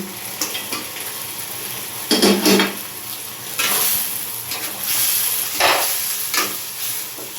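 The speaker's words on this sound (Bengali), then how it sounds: "এখন আমি ভেজে রাখা এই কাঁটাগুলো, মাছের কাঁটাগুলো, মাথাগুলো দিয়ে দেব।" Fried fish bones and heads go into a pan with a little ghee for muriganto and are stirred, producing a low sizzle broken by several loud scraping, rattling bursts of spatula against metal.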